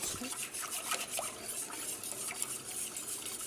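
Semolina dessert mixture stirred in a pan over heat, a steady scraping and swishing of a spoon against the pan with faint clinks, fairly quiet and close, with no talking.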